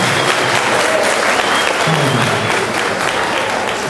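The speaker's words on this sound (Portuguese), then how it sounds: "Palmas para todos nós." Audience applause at a school martial-arts presentation, loud, continuous clapping from a large crowd that stays even throughout, with a faint voice briefly audible beneath it.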